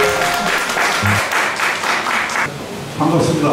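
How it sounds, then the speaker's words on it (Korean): Lecture audience at a unification forum graduation special talk bursting into steady, dense applause, with a voice talking over it partway through. "여러분의 힘찬 박수로"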